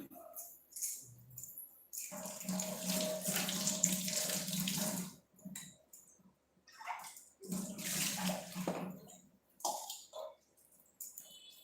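Tap water runs in a kitchen sink while hands are washed, steady splashing in two long bursts with short pauses between them, close by and fairly quiet.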